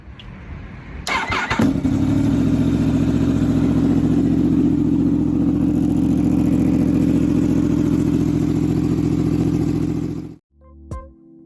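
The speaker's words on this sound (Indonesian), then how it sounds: "inilah yang bikin Yamaha R1 punya karakter suara yang khas banget" A Yamaha R1 motorcycle with a crossplane four-cylinder engine fires up with a starter whir, then settles into a loud, steady, deep and rough idle held close for several seconds before cutting off abruptly.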